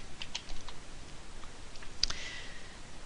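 Soft keystrokes tap on a computer keyboard in a few quick, faint clicks, then a brief sharper click, all quiet and close with no talking.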